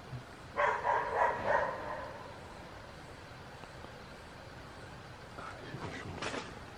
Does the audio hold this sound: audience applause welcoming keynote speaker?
no